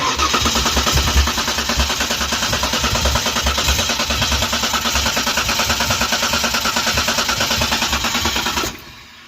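A 1992 Ford Ranger with a 3.0L engine is cranked, giving a loud, rhythmic, chugging churn of the starter that runs steadily for several seconds and then cuts off abruptly near the end.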